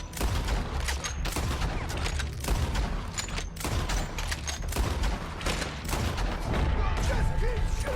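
Sustained gunfire from the video game Red Dead Redemption 2, a dense barrage of overlapping shots and rapid bursts throughout, fairly loud, with game voices mixed in.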